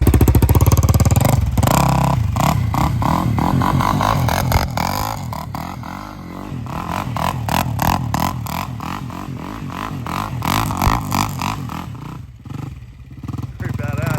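A Can-Am DS450 ATV engine runs loud and close, idling roughly and revving up and down repeatedly while people talk over it.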